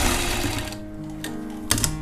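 Close and alone, a sewing machine runs a line of stitching on a jacket, giving a brisk motor whir with needle ticking that eases off midway, then picks up again with a couple of sharp clicks.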